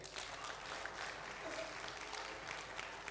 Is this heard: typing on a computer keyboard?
no